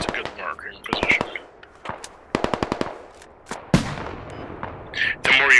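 Gunfire from the military shooter game Squad: loud bursts of rapid automatic fire and single sharp shots in irregular clusters, close and punchy, with a heavy blast near the middle and a busy crackle toward the end.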